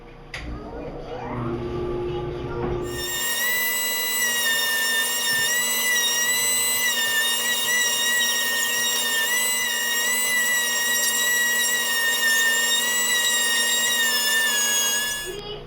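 A power sander smooths cured epoxy while a dust collection system runs. After a few seconds of low background noise, a loud, steady motor whine with a strong tonal hum starts close by and continues without a break.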